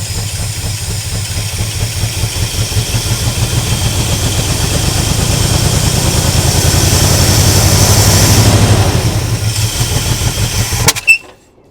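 An old squarebody plow truck engine that had sat unused runs steadily at a rough, loud idle with a pulsing low rumble, then revs up slightly before cutting off abruptly near the end.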